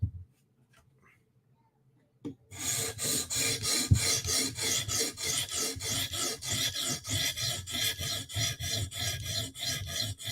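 A knife blade is drawn across a sharpening stone in a final pass, giving regular rasping strokes in a steady, close rhythm after a few seconds of near silence.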